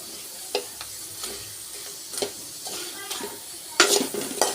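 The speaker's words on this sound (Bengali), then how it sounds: "সব কিছুই নিরামিষে একটু লাল করে ভাজবো বেশি লাল করবো না" Vegetarian food fries in a pan on an Ekadashi day, a steady sizzle broken by scrapes and clinks of a spatula against the pan, the last stirs louder and closer.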